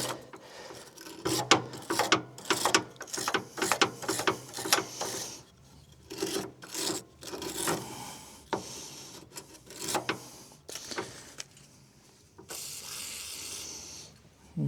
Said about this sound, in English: let's see if we can wipe some of that rust off there with this wire brush